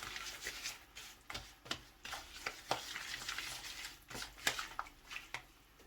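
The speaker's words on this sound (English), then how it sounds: "I have mixed the red oil with the ogbono." Red palm oil being stirred into ground ogbono for soup, a soft scraping and rubbing with irregular knocks of the spoon against the bowl, close and fairly quiet, with no talking.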